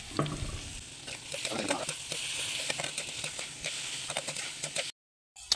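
Corned beef (Karne Norte) sizzles and crackles in a frying pan with bitter gourd (ampalaya) and egg, with steady frying hiss and stirring scrapes, close and moderately loud, before a brief dropout.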